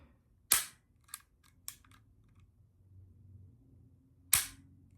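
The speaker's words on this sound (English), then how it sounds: "let me show you that trigger break. Yeah, and then let me show you again from home. I'll show you the double action." Dry-fire trigger clicks of a Walther PDP Compact 9mm pistol in double action: four sharp, close metallic snaps, three fairly quick ones followed after a pause by a final crisp click, separated by near silence.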